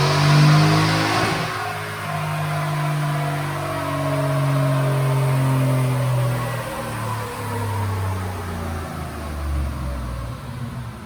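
Revving V8 from a 2018-or-later Ford F-150 Roush Performance Pack 1 with a 5.0 Coyote engine, cold air intake and tune, on a dyno pull: loud sustained engine roar that climbs steadily in pitch, with no talking.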